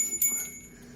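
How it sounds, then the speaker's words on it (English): Small bells on a handmade elemental hanger, meant as an offering for a garden tree, give a faint, brief tinkling with a thin sustained ring that fades quickly, with no voices. "it's got these bells on"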